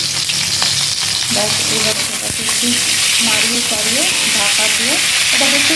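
Pointed gourd (potol) seasoned with turmeric and salt sizzles steadily in hot oil in a pan, with scraping stirring strokes throughout and a brief spoken word near the start.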